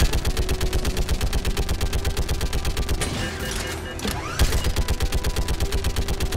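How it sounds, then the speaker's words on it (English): Gunfire aimed at a shuttle in Mass Effect 3 during a battle on the homeworld: fast, evenly spaced automatic shots rattle on loudly and close, pause briefly midway, then resume at the same steady pace. "They're shooting at the shuttle"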